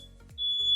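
A household smoke alarm gives a loud, shrill, sustained high-pitched electronic tone that starts partway in and holds steadily to the end, with faint background noise before it and no voices.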